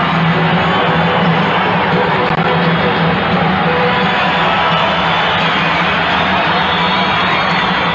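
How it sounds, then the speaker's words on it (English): A packed basketball arena crowd at a 1982 NBA game between the Bucks and Spurs roars in a steady, dense wall of cheering and chatter that holds loud and unbroken throughout. "Listen to this crowd."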